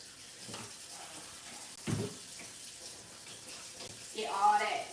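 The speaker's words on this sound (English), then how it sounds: "let me wash my hands again before I touch my oil" Tap water running over hands at a kitchen sink, a soft splashing hiss with a louder gush near the end, while preparing raw meatballs.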